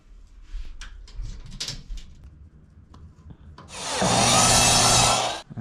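Wood shelving for a tool closet is cut with a power saw, preceded by scattered knocks and handling noises, then a loud sustained whining cut for a couple of seconds that stops abruptly.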